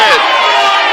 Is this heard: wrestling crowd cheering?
yes